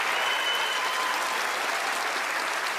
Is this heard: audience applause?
yes